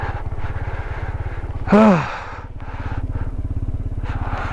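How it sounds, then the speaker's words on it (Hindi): A motorcycle engine drones with a steady rapid pulsing beat while riding at high altitude on a Ladakh mountain road, with a brief louder swell partway through before settling back to the even throbbing. "इस बाइक को पता नहीं क्या है, हर एल्टीट्यूड पाने के बाद ना ये आरपीएम अपना हाई कर लेती है।"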